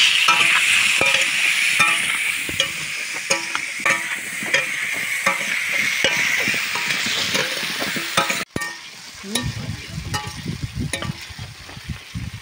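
Cauliflower frying in hot oil with salt in a home kitchen, a loud continuous sizzle with repeated scraping and clanking of a spatula as it is stirred; the sizzle drops off near the end as the pan is handled.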